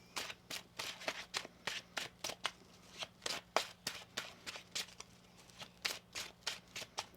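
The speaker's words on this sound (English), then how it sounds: "One more shuffle here." Cards are shuffled in a quick, irregular series of crisp riffles and snaps, close by and fairly quiet, with no talking.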